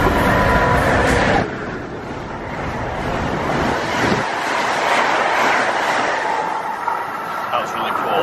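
Steady rumble of a train rolling along rails, with a rushing, wind-like roar that eases slightly after the first second and continues throughout.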